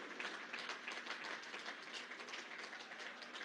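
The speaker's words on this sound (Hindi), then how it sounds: "यहां से वहां तक सारे कार्यकर्ता मिलकर के जोरदार तालियों से आपका अभिनंदन करें" Party workers clapping for the Prime Minister at the inauguration of a new BJP state office in Delhi, a steady, dense wash of crowd applause holding even throughout with no voices over it.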